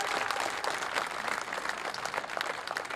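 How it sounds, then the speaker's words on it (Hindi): Village rally crowd in Bond for a Karni Sena gathering breaking into loud, dense applause, continuous clapping filling the moment with no speech over it. "इनके लिए जोरदार ताली होनी चाहिए।"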